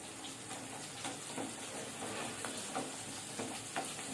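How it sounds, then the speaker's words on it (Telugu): Onions and curry leaves fry in hot oil on a medium flame for a tomato curry, giving a soft, continuous sizzle with scattered small pops and crackles, fairly faint and without talk. "ఆనియన్స్ వేసి, కరివేపాకు వేసి వేయించుకోవాలి."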